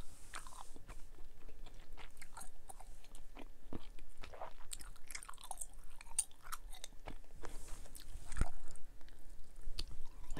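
Bubble Dozer bubble gum being chewed close up, soft wet squishing and smacking with sharp little clicks in an irregular steady rhythm, quiet and intimate.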